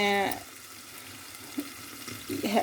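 Peppers fry in a pan beside sausages, giving a soft, steady sizzle under light kitchen clatter, with a few small clinks and a brief stirring noise near the end.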